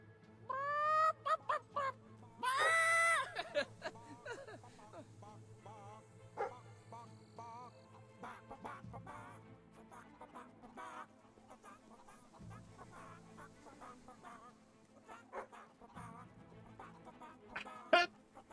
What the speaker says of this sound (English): These chickens are way smarter than Earth chickens.